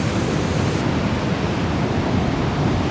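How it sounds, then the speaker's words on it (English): Ocean surf rolling in along the Daytona Beach oceanfront, a steady broadband wash of waves with wind across the microphone, continuous and close, no voices. "I'm out here on the ocean front, where the ocean's right on this side here"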